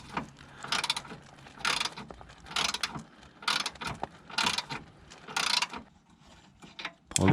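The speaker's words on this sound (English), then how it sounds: "Let's get the anti-roll bar off now." Metal ratcheting and wrench clicks from a Subaru Legacy GT's anti-roll bar being unbolted, coming in repeated bursts of ratchet strokes at close range, with no talk.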